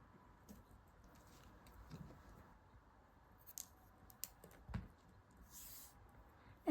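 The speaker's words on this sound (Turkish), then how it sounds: "Şimdi bu pullu ipi kesiyorum." Scissors snip through sequined yarn during a knitting project. A few faint, sparse clicks and soft rustles sit over near silence, with no talking.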